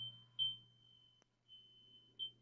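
A smoke detector alarm at a minor league ballpark during a San Antonio Missions at Frisco RoughRiders baseball game, giving short quiet high-pitched chirps over a steady low hum.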